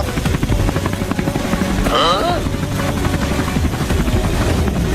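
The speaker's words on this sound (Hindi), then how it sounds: "अरे वहाँ तो एक हेलीकॉप्टर भी उड़ रहा है।" A helicopter's steady rotor thrum fills the whole stretch, loud and constant, with a brief whistling squeal near the start, in a cartoon.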